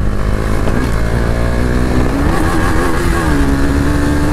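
A modified KTM Duke 250 BS6 motorcycle engine with short gearing revs and accelerates close by, its pitch climbing steadily through a rising harmonic whine with a loud, continuous roar.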